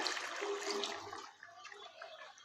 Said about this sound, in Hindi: आलू के साथ ही हम तकरीबन इसमें आधी प्याली पानी की डाल देंगे ताकि आलू अच्छे से गल जाए।